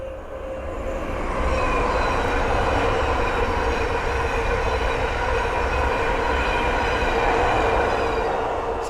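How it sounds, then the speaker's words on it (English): Thameslink Class 700 electric multiple unit passing on the Midland Main Line at Ayres End Lane, a loud, steady rushing roar of wheels and rail noise sustained throughout, with faint squeal tones and no pause. "the next train to pass by is a Thameslink 700"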